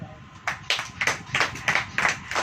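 Several people in a church congregation clap in a loose, steady rhythm of sharp hand strikes, a short burst of about a dozen claps at moderate distance with no voices.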